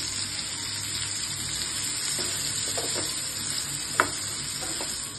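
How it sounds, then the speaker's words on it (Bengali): Karkol (spine gourd) and potato pieces seasoned with salt and turmeric sizzle together in a pan, a steady frying hiss broken by a few clinks and scrapes of stirring. "কারকোল আর আলুটা আমি একসাথে ভেজে নিচ্ছি"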